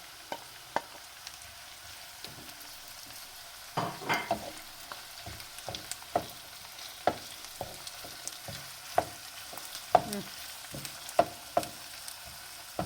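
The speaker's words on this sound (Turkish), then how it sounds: "Bunları kızartalım" Onions and chicken fillet for paella sizzle steadily in a hot pan, with scattered pops and crackles and occasional scraping or stirring sounds over a constant hiss.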